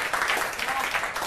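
Listeners at a New Year poetry gathering break into a brief, loud burst of clapping, a continuous wash of many hands with a voice faintly mixed in.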